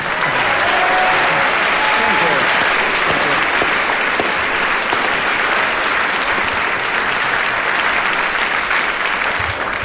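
A radio panel show studio audience applauds the host with loud, continuous, dense clapping that stays steady for about ten seconds, a brief voice surfacing early on.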